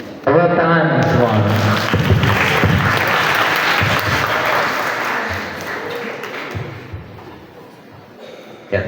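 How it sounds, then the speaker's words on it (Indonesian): Applause from the participants at a Quran recitation practice session, a dense wash of clapping that runs for most of the stretch and fades slightly toward the end, with voices mixed in over it. "Tepuk tangan semua."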